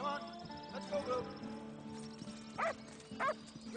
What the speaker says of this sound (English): She's been specially trained as a bear dog.